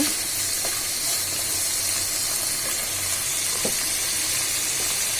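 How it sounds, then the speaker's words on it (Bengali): Masala spice paste sizzles steadily in a pan while egg and sweet pumpkin curry is cooked, with a constant frying hiss and a few faint scraping stirs. "মশলাটাকে কিছুক্ষণ নাড়াচ্ছি।"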